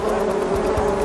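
Bees from urban beehives in an English city give a loud, steady, close buzzing hum that holds without a break.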